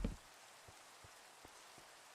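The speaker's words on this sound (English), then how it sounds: "That's at least 3 times in the first hour of stream that it's been raining" Rain falls in a video game, The Citadel, as a faint, steady patter with a few soft, scattered drop taps and no voices.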